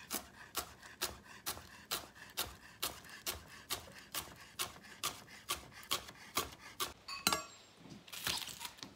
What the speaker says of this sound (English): go in and chop our onion.